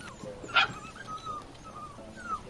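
Puppies in a Chime bank advertisement give soft, high whimpers and yips, with one sharper cry early on and a few fainter whines after it, close and brief.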